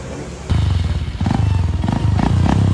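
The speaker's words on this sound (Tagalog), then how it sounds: "Honda XR ni siya guys nga 150cc." A Honda XR 150cc motorcycle engine runs close by with a steady, throbbing beat. It grows louder after a brief quieter start and then keeps a rough, even rhythm with small surges.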